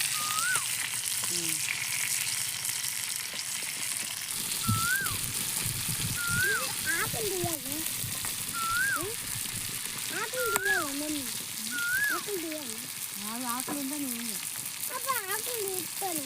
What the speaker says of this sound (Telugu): ఫిష్ ఫ్రై వేసుకోవాలి.